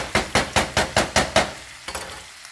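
A lamb chop frying over high heat, with a quick run of six or seven sharp, evenly spaced knocks against the pan over a light sizzle, followed by a few softer taps.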